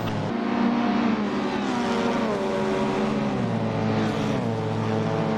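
A saloon race car in Assetto Corsa accelerates hard up a hill onto a back straight, its engine note climbing steadily through the gears, loud and close, with a brief shift partway.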